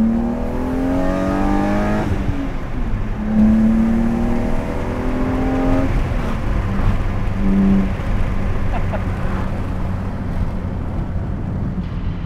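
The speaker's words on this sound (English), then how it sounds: "When I downshift now, I get a really nice like whoosh from the intake as it's sucking in air" A car engine with a lighter flywheel revs and drops through downshifts, with a rising and falling whir and a breathy intake whoosh between shifts, close and steady.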